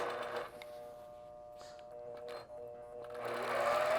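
A longarm quilting machine stitches a log cabin quilting design with a rapid mechanical hum and chatter close by, pausing and changing pace as it backtracks, then speeding up again.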